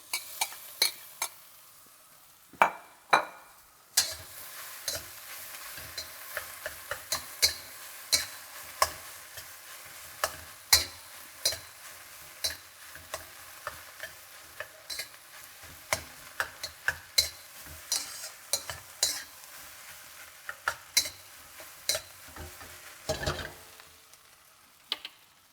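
Clean-out-the-fridge chicken fried rice being stirred and fried in a pan, a steady sizzle under frequent sharp scraping and tapping strokes of a utensil against the pan, close and fairly loud, with no talking.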